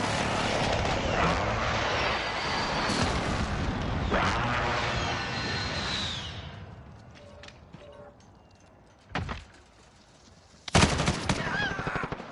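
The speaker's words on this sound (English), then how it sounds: "Enemy precision airstrike. Take cover." Precision airstrike explosions rain down in a Call of Duty multiplayer match. Dense, loud blasts and gunfire fill the first half, then thin out to a few sharp, separate impacts, with game voice callouts mixed in.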